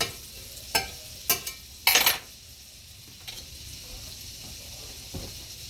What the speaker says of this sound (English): So let's put some butter in the pan to kind of fry it, get it browning up.